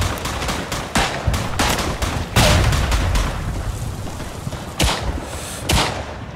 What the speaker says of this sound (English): There's a Lewis gunner.